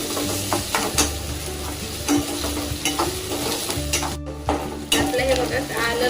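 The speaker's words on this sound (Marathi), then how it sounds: "आता हे अद्रक लसूण पण व्यवस्थित फ्राय होईपर्यंत आपल्याला तेलामध्ये असं परतून घ्यायचं" Ginger and garlic frying in oil in a pan for baingan bharta, a close, constant sizzle under repeated rhythmic scraping strokes of a spatula stirring, with occasional utensil clinks and no speech.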